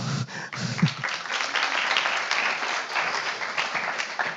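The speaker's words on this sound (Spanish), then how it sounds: "si quieres lo decimos por un aplauso" Audience at a Spanish-language voice and dialogue meetup breaks into applause after a brief low murmur, then keeps up a thick, even clapping that holds to the end.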